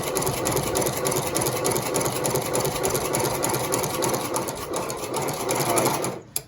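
Consew 29 cylinder arm lock stitch sewing machine, an industrial shoe repair and mending machine, runs continuously at a steady hum and clatter for about six seconds, then stops abruptly with a last brief knock.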